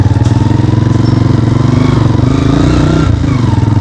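Motorcycle ridden at full power through Udaipur city, its engine a loud, steady low drone that holds without a break from start to finish, with no talk over it.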